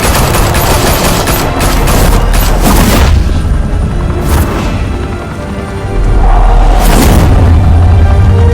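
Sustained gunfire in a shootout at a high-rise mafia club in downtown Gotham, from Batman: The Telltale Series, with loud dense bursts and booming shots, a brief lull, then another heavy volley.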